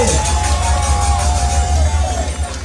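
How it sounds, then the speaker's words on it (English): A large crowd at a St. Lucian rally cheers and roars steadily, a dense wash of voices and whoops that stays loud throughout. "Give the St. Lucians a round of applause for me, please."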